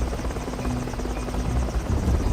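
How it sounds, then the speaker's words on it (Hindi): A cartoon helicopter drones loudly and continuously, its rotor chopping with a steady, dense rhythm close by. "सुरेश हेलीकॉप्टर से ये सब देख रहा होता है।"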